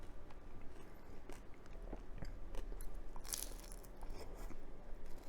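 Crisp, crunchy bites into a fried banana eggroll (turon), several brittle crackles spread across a few seconds, close and fairly quiet with no talking.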